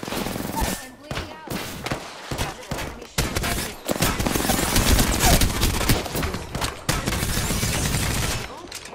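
Apex Legends gunfire, dense bursts of automatic weapon fire and rapid shots in loud volleys separated by brief gaps, with in-game voice lines mixed in.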